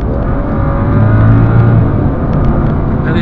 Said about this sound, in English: when you do the kickdown on this car, it's like it changes engine